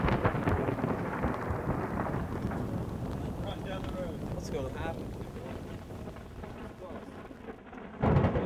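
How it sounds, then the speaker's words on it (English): A heavy rainstorm with thunder at an outdoor Worlds competition sounds as a rough, rumbling wash of rain and gusty wind buffeting the microphone, with a louder gust near the end. "The first day of Worlds competition started with heavy rains, lightning, and thunder"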